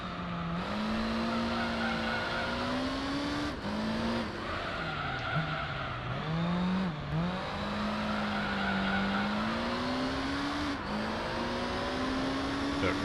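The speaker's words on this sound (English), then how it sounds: "it sounds like the GT40" A Ford GT40 race car engine roars in Gran Turismo 3 during the Special Stage Route 11 endurance race. A continuous loud droning note rises and dips with gear changes and cornering, with occasional tire squeal and no talking.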